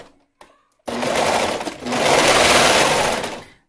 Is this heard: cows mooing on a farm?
no